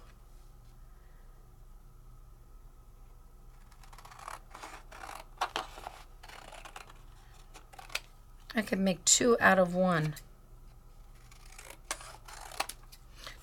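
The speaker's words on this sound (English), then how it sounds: "So let's cut this down." Scissors cut paper freehand during a Sizzix papercraft session, a short burst of close snips midway after quiet handling, with someone talking.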